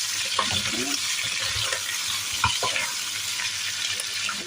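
Chicharon pork rinds frying in their own rendered oil, with a continuous bright sizzle, intermittent pops and the scrape of stirring.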